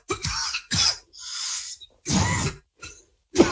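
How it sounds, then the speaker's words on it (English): Repeated harsh, wet coughs in short bursts, four or five close and loud, with brief silences between them and no talking. "That was a productive cough."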